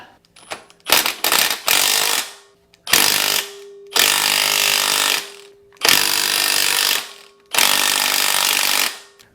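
An impact wrench works the axle bolt on a vintage KDX 450 woods bike, firing in five loud rattling bursts of roughly one to one and a half seconds each, with short pauses between them and a few small clicks at the start.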